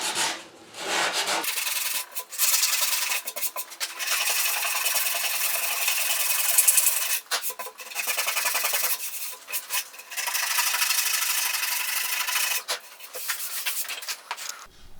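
Steady abrasive rubbing of hand sanding on the carved wooden top of an ES-335 style guitar, continuous strokes with brief pauses, close and fairly loud, no voices.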